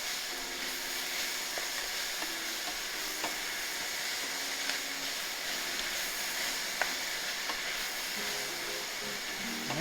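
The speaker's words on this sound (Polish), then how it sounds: "mieszamy dosyć intensywnie. Gotujemy też na dużym ogniu." Chinese cabbage with curry is stir-fried over high heat, giving a steady close sizzle and hiss with scraping stirring noises throughout.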